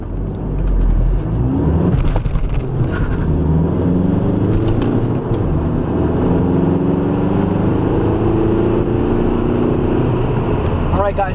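A tuned Volkswagen TDI diesel car accelerates hard from 0 to 60, its engine drone steady and loud from inside the cabin as the pitch climbs through the gears over about eleven seconds.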